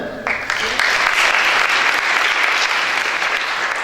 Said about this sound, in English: I would like to give a round of applause to our volunteers.